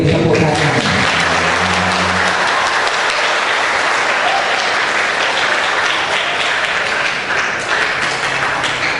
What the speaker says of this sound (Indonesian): diberi tepuk tangan